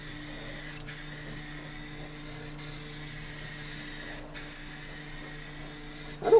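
A Rust-Oleum spray can hisses steadily as paint goes onto a VW Beetle, one long, even spray broken by a few brief pauses.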